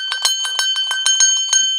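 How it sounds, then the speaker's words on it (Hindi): A metal bell is struck rapidly and repeatedly, about a dozen bright, ringing hits in under two seconds. Close and loud, with the tone sustaining between strikes. "मंदिर में भी घंटी बजाओ"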